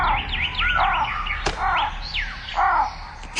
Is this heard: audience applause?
no